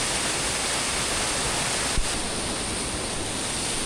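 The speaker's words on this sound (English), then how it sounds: "This waterfall up here, look at this." A forest waterfall in a Washington national forest roars as a dense, steady broadband rush heard up close, with no voices, the sound constant throughout apart from one brief knock.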